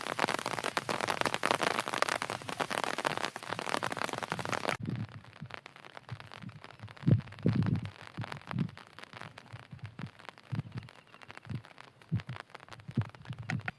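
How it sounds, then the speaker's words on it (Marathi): Rain falls on open grassy grazing land where buffaloes are feeding, a dense steady hiss for the first few seconds before it cuts to a quieter stretch of soft, irregular low thuds. "तर आता पाऊस पडतोय"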